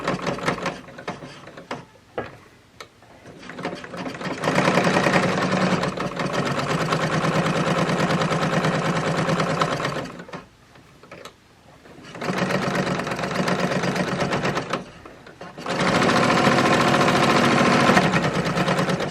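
A sewing machine stitches a quilt-as-you-go square coaster in three sustained runs of steady mechanical whirring, each a few seconds long, separated by short pauses and light handling noise.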